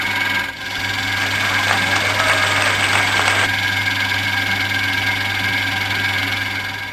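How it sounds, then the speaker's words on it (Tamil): A repaired wet grinder motor runs at high speed, giving a steady, loud mechanical hum with a low drone and a brief whirring rise partway through, alone with no talking. "இனி வந்து ஆன் பண்ணி பார்க்கலாங்க கிரைண்டர் ஓடுதா அப்படிங்கிறது. ஓடுது, வேறு லெவலுங்க, ஸ்பீட் ஐஸ்பீடில் ஓடிட்டுருக்குது"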